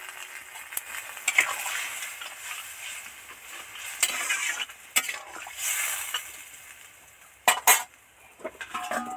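A spoon stirs chopped tomato and fried lentil dumplings into a pan of mixed vegetables, with repeated scraping, sharp metallic clinks against the pan and a soft sizzle between strokes, close by and without talk.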